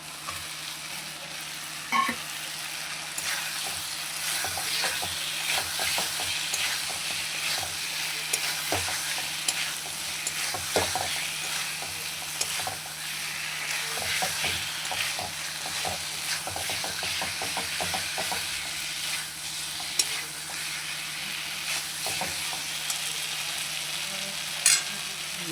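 Cauliflower sizzles steadily in a hot pan of oil while being stirred, with a constant frying hiss broken by scraping and clinking of the spoon against the pan.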